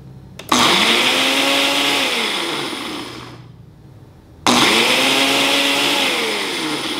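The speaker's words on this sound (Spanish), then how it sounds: "Y ahora lo vamos a licuar." A kitchen blender whirs loudly as it blends rosemary and aloe vera, running in two bursts with the motor winding down and briefly stopping before restarting at full speed, with no one talking.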